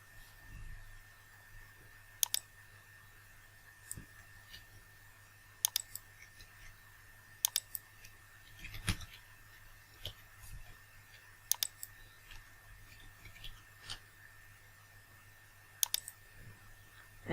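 Sparse, crisp mouse clicks while a Google Form is built for virtual teaching, arriving singly at irregular intervals over a faint steady hum, close and quiet, with no talking.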